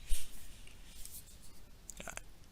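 Pen or chalk writes out an equation in a physics lesson with faint scratchy strokes, a small tap near the start and a quick flurry of short marks toward the end.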